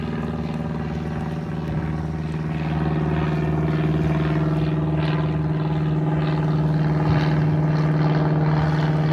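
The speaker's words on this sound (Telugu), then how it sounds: "ఇట్లా పైన హెలికాప్టర్స్ కనిపిస్తున్నాయి కదా, హెలికాప్టర్ అడ్వర్టైజ్మెంట్స్ అంట ఇవి." Helicopters carrying advertisements fly overhead at a fireworks event in Windsor, Canada, giving a steady droning hum with a strong low engine tone that holds throughout and grows slightly louder partway through.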